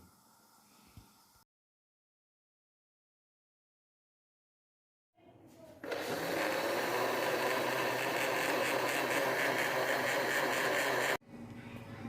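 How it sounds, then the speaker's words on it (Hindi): A kitchen blender grinds soaked rice with half a cup of milk for a pink kheer, a loud, steady whirring roar that starts abruptly after a silent pause, runs for about five seconds, then cuts off. "हाफ कप ले लिया है दूध, इसमें डाल के अच्छी तरह से ग्राइंड कर लेंगे।"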